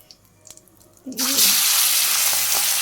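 Boal fish dropped into hot oil with cumin, starting with faint clinks and then bursting into a loud, steady, hissing sizzle that carries on to the end.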